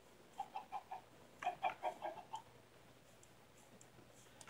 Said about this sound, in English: Got a chicken.